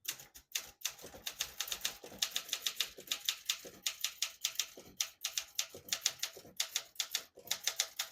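Typing on a 1965 Olympia SM9 vintage portable typewriter, a close, steady run of sharp key strikes with brief pauses and a carriage bell-like ring now and then, no voices.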